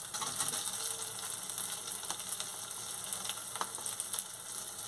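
Cherry tomatoes sizzle in hot oil for a gourd and paneer kofta curry, a steady close crackling hiss with scattered sharp pops and faint clicks throughout.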